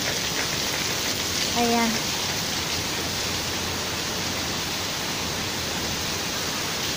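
Heavy rain pours down in a dense, steady hiss that stays loud throughout, and a voice briefly speaks early on.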